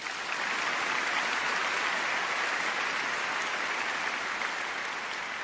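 A concert audience applauds a pianist after a classical performance of Chopin, a dense, steady wash of clapping from many hands that holds for the whole stretch without talk.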